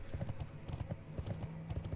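Mounted horse hooves clip-clopping in World of Warcraft, a steady rapid rhythm of close, even hoofbeats running continuously with a low tonal hum beneath.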